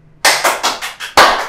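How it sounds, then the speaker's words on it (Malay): Six sharp, close claps in an irregular burst, loud and distinct with brief decays between them, from a studio podcast audience. "Tepuk sendiri."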